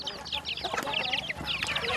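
Chickens kept in a round coop in rural Laos cluck steadily at close range, several hens overlapping in choppy, busy bursts with no talk.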